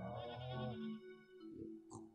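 Goats bleat on a farm in the Stardew Valley video game, one long wavering bleat close by followed by a couple of shorter, fainter calls.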